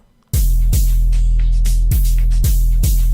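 A looping amapiano beat made in FL Studio Mobile, with a booming low kick about every half second and bright, sizzling open hi-hat hits layered over it, loud and steady.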